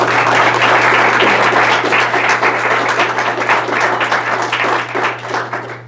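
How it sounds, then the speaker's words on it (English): A debate audience at a city law director's event in Mansfield, Ohio, breaks into a loud, steady round of applause, dense hand clapping that carries through and tapers slightly near the end over a low electrical hum. "let's give these guys a great round of applause"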